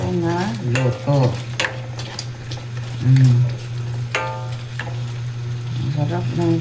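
Chicken adobo sizzling and being stirred in a pan at home, a steady fry with scraping and clinking of utensils, a person talking over it throughout.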